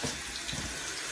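A kitchen faucet runs full and steady after an electric Bradford White 50-gallon water heater is flushed, a close, continuous rushing hiss of water with no voices.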